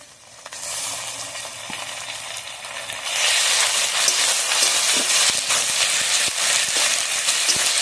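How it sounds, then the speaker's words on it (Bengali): Ginger-garlic paste frying with browned onion in oil: a quieter stir at first, then a sudden loud burst of hissing sizzle as the paste hits the pan, continuing strong with scraping stirs. "আদা রসুনটা ভালোভাবে ভেজে নেবো।"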